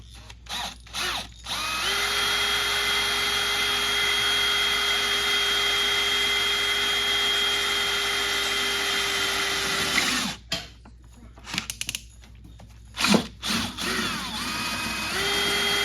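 A power drill bores into the floorboards of a Yamaha Phazer snowmobile, whining loudly and steadily for about eight seconds, then stopping and restarting in short bursts.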